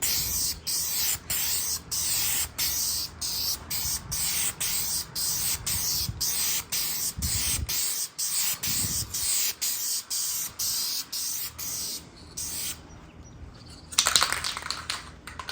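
Short bursts of clear coat spray onto a small RC snowmobile headlight, each a brief close hiss repeating in quick regular succession, followed by a longer louder spray near the end. No one talks.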